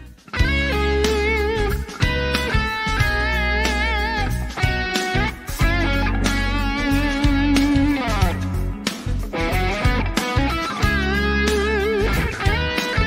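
Electric guitar plays a melodic line with expressive string bends and wide vibrato over a steady backing, loud and continuous with no talking.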